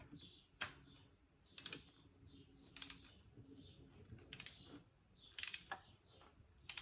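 A torque wrench set to 18 to 21 foot-pounds ratchets on a spark plug of a Mercedes C32 AMG engine, giving quiet, close clicking bursts at regular intervals in an otherwise hushed space.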